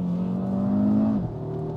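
A Cupra Formentor VZ5 SUV's five-cylinder engine revs high and holds a steady, loud tone, then drops sharply in pitch as it shifts up, with no talking.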